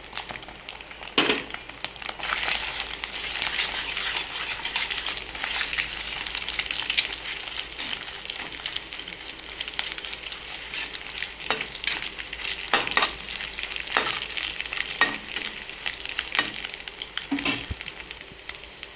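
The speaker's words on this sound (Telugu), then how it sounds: "ఇప్పుడు దీనిలో మనం వేసి పెట్టుకున్న ఎల్లిపాయ కారం అయితే వేపుకుందాం" Garlic chili powder frying in hot oil, stirred steadily for egg scramble: a continuous close sizzle with scraping spoon strokes against the pan throughout, no talking.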